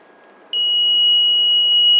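A generator control panel alarm sounds as a single steady high-pitched electronic tone, starting abruptly and holding loud and continuous.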